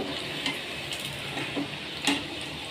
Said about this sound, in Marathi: मीडियम फ्लेममध्ये पकोडे छान असे गोल्डन कलर येईपर्यंत तळून घ्यायचे